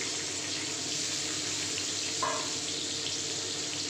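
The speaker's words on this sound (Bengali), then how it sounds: "এই তেলের মধ্যে আমি আগে আলুগুলো ভেজে নেবো।" Potato pieces frying in a pan of hot oil while cooking a rui fish head and taro curry, a steady broadband hiss and sizzle held close and even throughout, with one brief bump partway through.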